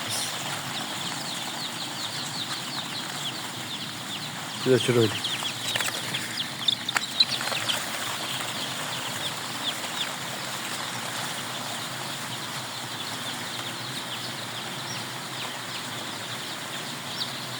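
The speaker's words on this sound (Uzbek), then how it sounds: "Mana jo'jalar." A dense, continuous chorus of many chicks chirping close by, with a brief burst of rustling and a short spoken phrase.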